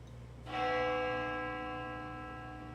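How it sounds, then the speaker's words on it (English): A single bell struck in the horror game Spirit Hunter: Death Mark II, one clear ringing strike that hangs and decays slowly with a rich harmonic tone over a low hum, no voices. "The sound of a bell echoes in my ears."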